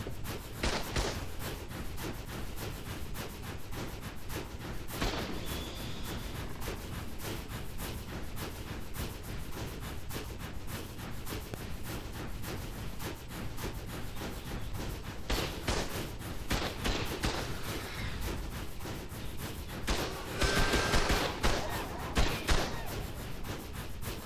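An automated turret in the Ark Survival Ascended video game fires at hyenas in rapid, continuous volleys, a dense stream of sharp shots with brief heavier bursts near the end.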